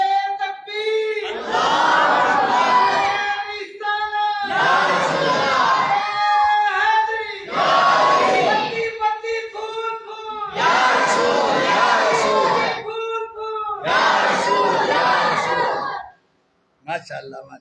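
Crowd at a religious Quran gathering chanting the Naara-e-Takbeer slogan, loud massed voices in about five rhythmic call-and-response bursts separated by brief pauses, ending in a short quiet gap.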